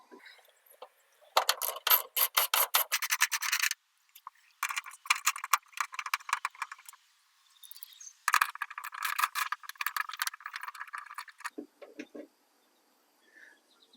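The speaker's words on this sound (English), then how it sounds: "we need to remove these two bolts and this nut using a 10mm socket and ratchet" 10mm socket and ratchet loosening tail light bolts on a Honda Civic trunk, rapid clicking pawl bursts in several runs with short pauses between, close and crisp.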